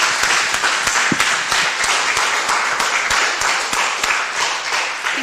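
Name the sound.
audience applause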